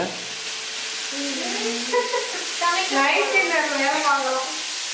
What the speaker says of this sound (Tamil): தக்காளி புதினா சட்னி தக்காளிலாம் போட்டு வணக்கி விட்டுருக்கேன்